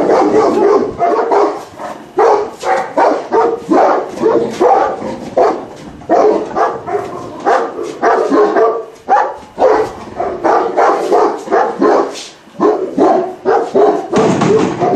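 A small dog barks and yips over and over in quick, loud bursts, close by, with brief pauses between the volleys.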